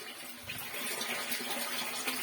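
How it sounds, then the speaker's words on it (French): A sump lift pump drains water with a continuous, even rush and gurgle of flowing water that holds steady throughout at moderate volume. "La pompe elle fonctionne là."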